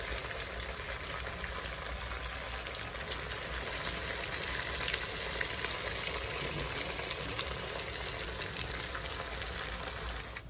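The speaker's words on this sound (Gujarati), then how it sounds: "આવી રીતના આપણે બધું તળી લઈશું" Steady, even frying hiss from a pan of Maggi noodles and poha snack bits, a dense crackling sizzle that holds without a break at moderate level.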